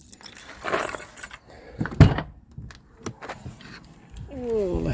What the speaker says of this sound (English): I'll get the keys out for that.